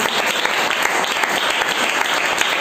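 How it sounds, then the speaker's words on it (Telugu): An audience at a Christian sermon breaks into dense, steady applause, loud and continuous from start to finish with no voices heard over it. "చప్పట్లు కొడితే"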